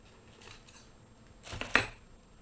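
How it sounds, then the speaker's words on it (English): Tape cut to a measured length with scissors in a quiet room, a couple of soft rustles followed by a short sharp snip, close and faint. "I'm going to take the tape, I'm going to measure approximately how much I want and cut it"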